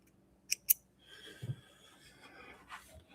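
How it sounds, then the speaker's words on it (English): Small thread clips snip excess thread at a Singer 99K sewing machine: two quick, sharp snips close together, followed by faint handling and rustling. "Get my little clips and we'll cut off that excess thread"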